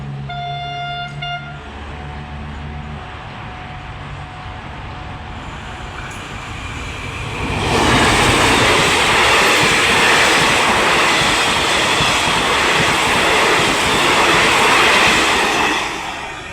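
A train horn toots at first, then a train rumbles past close by on a curve near Saraphi market in Thailand, its loud roar and wheel clatter building and holding steady.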